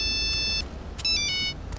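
An incoming-call phone ringtone plays in a Tamil suspense crime film, two short bursts of bright electronic melody separated by a brief gap, loud and close, with no voices.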